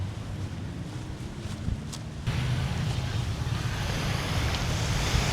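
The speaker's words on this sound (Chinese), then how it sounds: "下午的海边特别蓝，特别好看。" Ocean waves wash ashore at an afternoon seaside in East Timor, a continuous broad surf roar mixed with wind buffeting the microphone that grows louder partway through.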